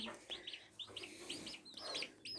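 Chicks and roosters on a perch make soft, high, repeated cheeping and clucking calls in quick irregular bursts, faint and close.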